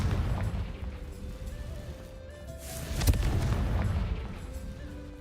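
A fiery Confringo spell blast booms in Hogwarts Legacy, a sharp burst near the middle over rumbling game ambience, with no talk.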